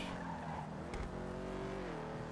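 Car engine and tire noise rush by in a video game, with a brief squeal of skidding tires against a steady engine hum, moderately loud.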